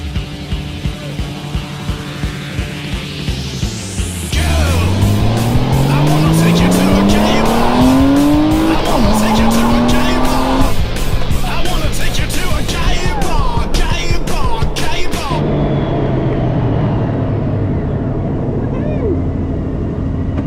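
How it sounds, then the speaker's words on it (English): A Honda Gold Wing motorcycle carrying two riders pulls away on the road, engine revving and climbing through gears with rising pitch sweeps, loud and close, then settling into steadier cruising with wind noise. "ride the Gold Wing to the parts store"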